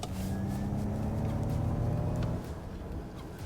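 A 2021 Ford Mustang Mach-E's electric motor accelerates with a faint, thin whine rising over soft road hum, then eases off partway through, quiet and without talk.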